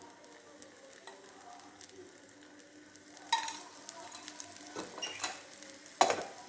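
Ghee sizzling on paruppu poli, a Tamil sweet flatbread made with maida, frying in a pan over medium heat; a steady soft crackle runs throughout, with louder spattering bursts near the middle and end.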